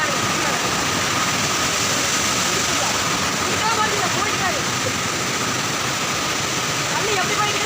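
Kallar waterfall near Mettupalayam pours in a steady, loud roar of rushing water throughout, a broad constant wash with people faintly talking beneath it.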